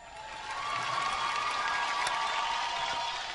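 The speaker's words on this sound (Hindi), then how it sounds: "जोरदार तालियां फॉर स्टार गिल्ड अवार्ड" A crowd claps and cheers steadily at the Star Guild Awards show, the applause swelling in and holding as a dense, sustained wash of sound.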